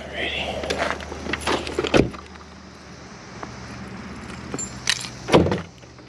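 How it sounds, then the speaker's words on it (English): Hood release of a Volkswagen Jetta being pulled from inside the car: two sharp, close clunks about three seconds apart over a low idle-like hum and faint background rustle. "let's get in and pop this hood."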